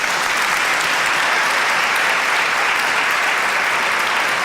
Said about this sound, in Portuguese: Por que não uma salva de palmas para eles?